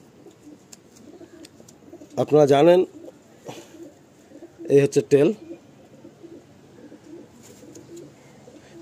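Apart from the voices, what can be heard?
restless fancy pigeons (Kalanka breed) cooing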